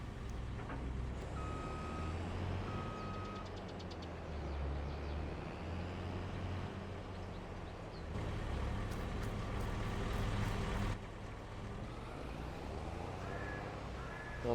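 A truck in the video game Farming Simulator 2022 reverses with repeated electronic backup beeps over a steady engine rumble, while crow caws sound in the background.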